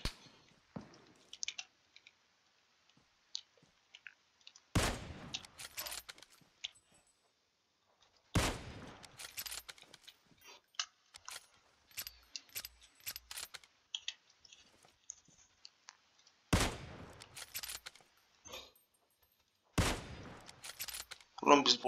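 Gunfire in a video game: several loud, sharp volleys of shots arrive in separate bursts, with quiet clicks and scattered faint sounds between them and occasional voices.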